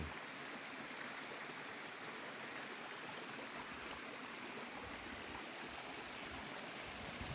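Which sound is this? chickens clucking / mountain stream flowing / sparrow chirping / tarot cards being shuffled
mountain stream flowing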